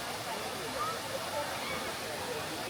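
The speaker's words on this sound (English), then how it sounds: "I loved the waterfalls." A waterfall on Oahu's North Shore gives off a steady, broadband rushing roar of falling water that holds at an even level from start to finish.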